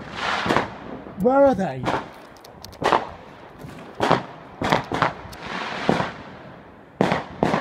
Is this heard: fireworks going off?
yes